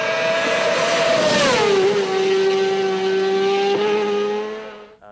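A superbike with more than 200 brake horsepower screams past at the Isle of Man TT road race. Its high engine note drops sharply as it flies by close and loud, then fades away, with no talk.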